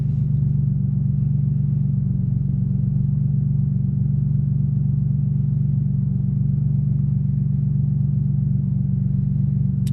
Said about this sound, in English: we're just gonna have it idle in the car